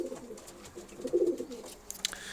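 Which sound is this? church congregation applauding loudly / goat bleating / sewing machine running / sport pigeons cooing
sport pigeons cooing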